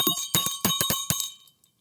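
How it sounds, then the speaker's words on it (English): A bright metallic school bell struck in a quick series of ringing hits, each tone sustaining briefly before the last one fades into silence. "let's get this week rolling with the ringing of the school bell"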